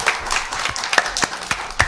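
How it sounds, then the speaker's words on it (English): Scattered clapping from an audience at a Christmas show, a handful of sharp claps standing out over a thin patter, brief and moderately loud. "Everybody clap for Mary."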